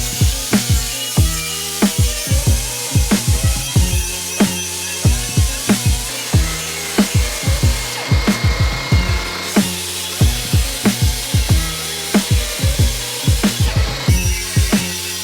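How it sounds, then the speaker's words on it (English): A power tool deburrs the cut ends of stainless steel header pipes for an E30 S54 engine swap, giving rapid repeated grinding strokes in a steady rhythm, close and loud, with no talk. "We're just gonna clean up like the edges and the burrs on here, just, you know, so we get a nice weld."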